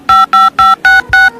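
A telephone being dialed: six evenly spaced two-tone keypad beeps, loud and clean, each a short held tone in a quick steady rhythm with no talking.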